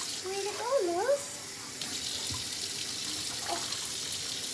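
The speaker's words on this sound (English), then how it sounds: "Nice warm bath." Warm bath water for a six-week-old baby pours and splashes steadily in a tub throughout. A short wavering voice rises over it near the start.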